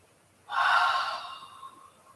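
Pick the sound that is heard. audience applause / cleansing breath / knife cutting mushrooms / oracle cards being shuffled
cleansing breath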